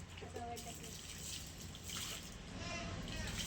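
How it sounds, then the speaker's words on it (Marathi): Faint water splashes and sloshing from a child splashing in a water drum come in irregular bursts, with voices talking in the background. "इकडे तिकडे पाणी मारतोय"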